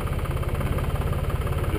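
A tractor engine runs steadily at idle, a loud, continuous low rumble with a throbbing pulse and no talk, during a rope strength test of a spliced line.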